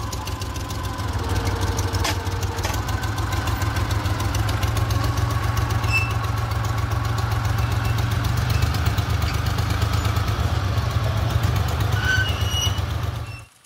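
A train locomotive engine idles on a rail line while preparing to reverse and couple with a rail wagon, giving a steady, loud, low diesel rumble that runs unbroken and close for the whole stretch, with no talk.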